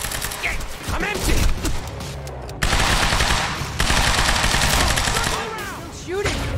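Automatic weapon fire in the time-manipulation shooter Quantum Break, with loud sustained bursts of gunshots filling most of the clip, some with sharp ricochet-like whines.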